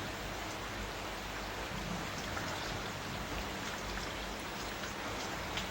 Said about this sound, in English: Listen to how it's raining.